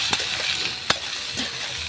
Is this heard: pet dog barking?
no